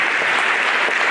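Loud, dense applause from an audience thanking a physical culture department at a city sports event, a continuous close wash of clapping that stops abruptly at the end.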